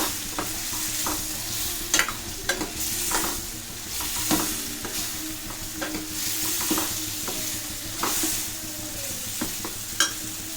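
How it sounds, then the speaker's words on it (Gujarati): Drumstick curry with gram flour sizzles steadily in a pan while a spoon stirs in boiled drumsticks, with repeated scraping knocks against the metal every second or so, close up. "એને આ રીતના હલાવી લેવાનું છે।"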